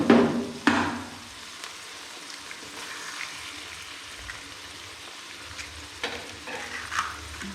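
Eggs fry in a pan pushed to one side of vegetables for vegetable biryani over low heat. Soft steady sizzling runs throughout, with a couple of sharp clatters near the start and light stirring scrapes later, and no voices.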